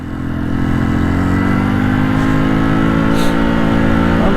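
A 150cc motorcycle climbing a mountain road in Benguet in the Cordillera, its engine droning loud and steady under strain, close up with a constant mid-pitched hum and no break.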